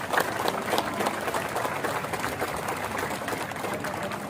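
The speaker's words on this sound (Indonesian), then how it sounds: "beri tepuk tangan yang meriah Ketua LPPM dan seluruh Rektor" An audience applauds at a stadium opening ceremony for the KKN Kebangsaan program at Universitas Palangka Raya, a steady, wash of many hands clapping at moderate volume throughout.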